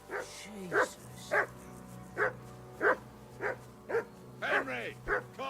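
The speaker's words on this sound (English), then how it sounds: "Get that mutt of yours to stop barking, will you?" Dog barking in Kingdom Come: Deliverance II, a run of about nine sharp, evenly spaced barks over a steady low hum, fairly close and clear with no voices during the barks.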